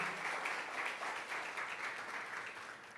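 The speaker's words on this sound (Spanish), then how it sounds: "Dale un fuerte aplauso al Señor." A church congregation applauds during a service, a fairly faint, even patter of many hands clapping that holds steady and fades slightly at the end.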